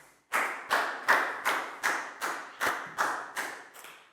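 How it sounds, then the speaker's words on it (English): A Year 4 class claps in unison for a classmate during a lesson, with about nine sharp, evenly spaced group claps at a steady rhythm, moderately loud in a room. "Big round of applause for Pang Pong"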